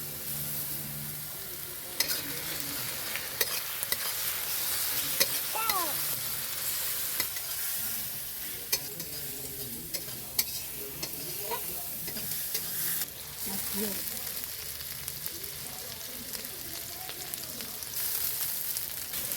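Garlic and ginger paste frying with spices in a pan for a homestyle chicken curry: a soft, continuous sizzle with repeated scraping and clinking stirring strokes, moderately close.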